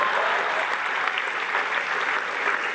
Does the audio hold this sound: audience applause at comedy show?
yes